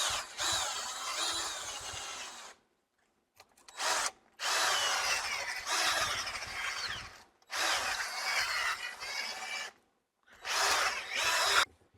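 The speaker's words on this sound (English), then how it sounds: "I have my drill with a wire brush, basically a brass brush. And I'm just gonna use the drill to scrub these off" A power drill spinning a brass wire brush to scrub corrosion off battery terminals, in five loud bursts of whirring and scraping separated by short silent pauses.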